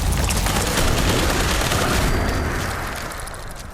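Energy rifle fire in a Fallout video game: a dense, loud burst of rapid electric-sounding shots and crackling blasts, continuous for several seconds before tapering slightly.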